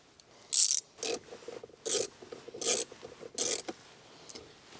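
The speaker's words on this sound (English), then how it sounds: "You can either use a 10mm socket for these or a Phillips." Ratchet with a 10mm socket undoing console screws in a 2015-2021 Subaru WRX, giving five short bursts of rapid clicking spaced about half a second apart, close and fairly quiet, with no talking.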